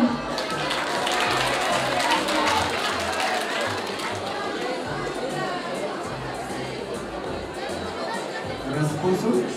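Applause and crowd chatter from an audience at a school pageant, a steady dense wash of clapping and hubbub throughout with no single voice standing out.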